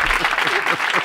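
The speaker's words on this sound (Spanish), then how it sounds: "¡Un aplauso para Masí!" A studio audience claps briskly for a guest on a Spanish comedy show, a short dense burst of applause with a voice faintly underneath.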